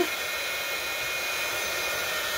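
A hair dryer blows in a steady, unbroken whoosh close by while drying a cereal box junk journal cover.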